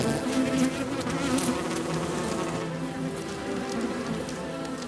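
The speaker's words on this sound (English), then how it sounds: "The queen and her bees finally start tending to their hive." Bees tending their hive buzz in a dense, steady hum, many wings droning together close by without pause.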